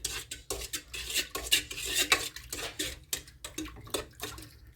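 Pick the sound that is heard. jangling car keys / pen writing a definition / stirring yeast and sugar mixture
stirring yeast and sugar mixture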